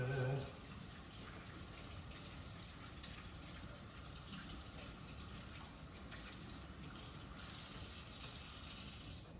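Hands are washed under a kitchen tap, with a steady close rush of running water splashing in the sink that continues throughout and grows slightly louder near the end.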